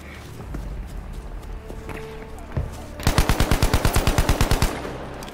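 Automatic weapon fire in the video game Battlefield 5, a rapid close burst of about fifteen evenly spaced loud shots after quieter ambient game sounds and a single earlier shot.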